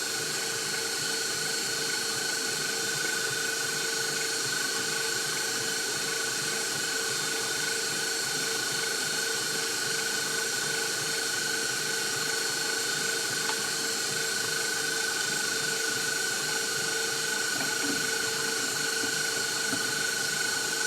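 Steady, unbroken whirring hum of a stand mixer whipping Italian buttercream with butter added, a constant high-pitched motor whine running alone at even volume throughout.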